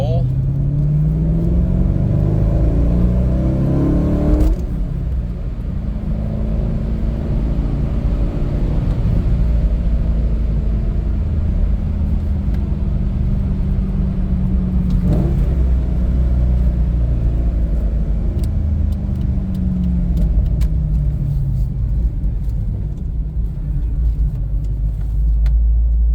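A Corvette C5 Z06 engine pulls hard through a second-gear roll, a loud, close, continuous rumbling drone whose pitch rises and falls across long sweeps, with a sharp shift-like break partway through.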